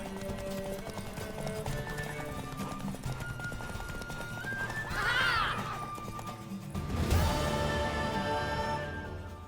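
Horse hooves clop steadily throughout a scene in The Witcher 3 video game, with a horse neighing loudly near the middle over continuous game music and ambient sound.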